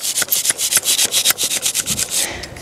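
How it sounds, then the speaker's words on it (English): A short saw cuts through the foam wall of an insulated concrete form, the Fox Blocks type used for slab support, in quick, steady rasping strokes, about four per second. The strokes are close and clear and slow near the end. "they're going to cut the foam like this between the two ties, the height of their slab."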